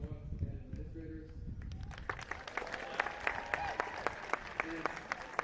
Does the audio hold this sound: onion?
no